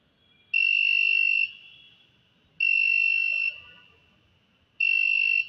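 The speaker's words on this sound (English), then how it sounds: "the moment I place my hand over the IR sensor, the LED is turned on and this buzzer alarm will be turned on" A buzzer alarm on an Arduino circuit, set off by a hand over an IR sensor, sounds three loud, steady electronic tones about a second each, separated by short gaps, with no talk.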